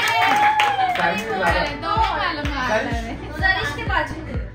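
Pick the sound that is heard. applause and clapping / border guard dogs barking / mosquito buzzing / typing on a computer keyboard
applause and clapping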